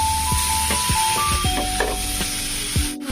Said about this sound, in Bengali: এখন এটা দিয়েও আমি একটু কষিয়ে নিচ্ছি